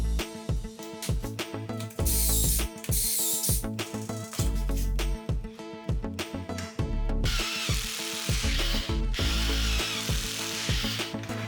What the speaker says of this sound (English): I'm drilling a ton of pocket holes to prep all my pieces